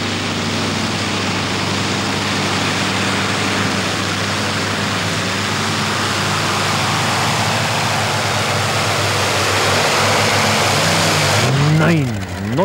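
Green Fighter pulling tractor at full pull in a tractor-pulling competition in Erkelenz-Holzweiler, a loud, steady engine roar that holds throughout and cuts off near the end.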